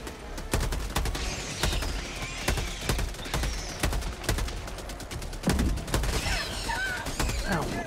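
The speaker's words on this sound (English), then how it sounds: "your sentry's shooting me" A sentry turret in Helldivers 2 fires in rapid, repeated bursts of loud gunfire, each volley cracking sharply over a constant roar of battle.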